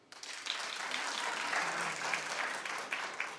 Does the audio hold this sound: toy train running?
no